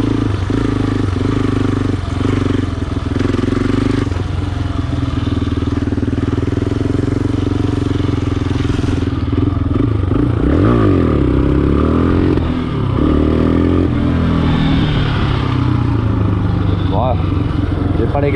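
A quad bike's engine revs while being ridden, with strong buzzing harmonic tones that hold steady, then rise and fall as the throttle changes, mixed with clattering and someone speaking over it.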